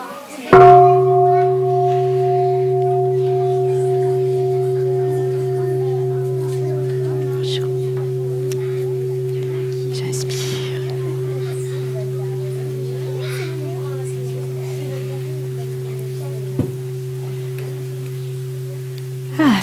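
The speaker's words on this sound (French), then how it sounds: "On va écouter un son de cloche" A mindfulness bell is struck once and rings with a clear, sustained tone that slowly fades over many seconds, with a faint rustle or tap partway through.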